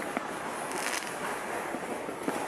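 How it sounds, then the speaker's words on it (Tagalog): New Year's Eve fireworks burst at a distance as a continuous crackling hiss with a few soft pops, steady and moderately loud, with no voices. "Uy, may isa pang fireworks, oh!"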